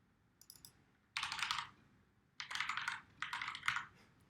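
Keys clatter on a computer keyboard in three quick, close bursts of rapid typing separated by short pauses, fairly quiet with no talk.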